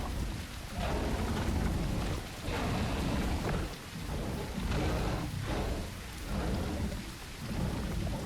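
Midday thunderstorm in the game The Isle Evrima, with heavy, steady rain on surfaces and deep rolling thunder swelling and easing in waves. The noise is loud and dense, with no voices.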